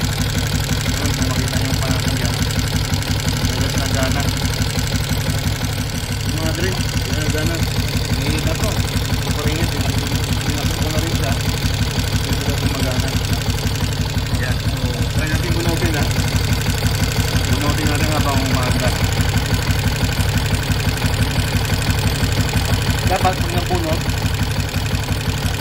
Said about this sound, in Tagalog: So, talaga gumagana yung ating fan.